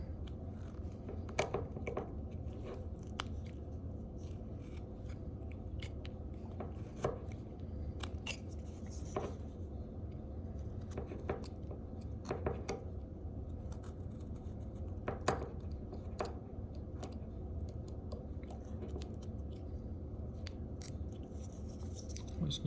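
A knife carves a wooden baseball player figure, making a stop cut; close, crisp cutting clicks and scrapes repeat irregularly over a low steady background.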